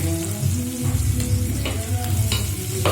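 Sliced onions fry in hot oil in a pan beside fish and chicken curry, a loud, close, continuous sizzle with occasional stirring scrapes.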